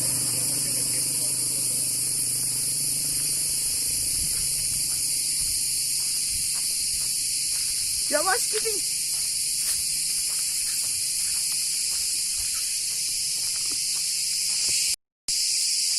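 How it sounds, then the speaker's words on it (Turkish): Steady high cricket chirping runs throughout at a constant level by the sea, with a brief spoken remark and faint low background noise underneath. "Burada cırcır böcekleri çok."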